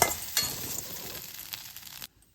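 A wheat flour masala ammani kozhukattai is stirred in a pan on the stove, giving a soft sizzle with light scraping and a sharp clink at the start, before the sound cuts out abruptly.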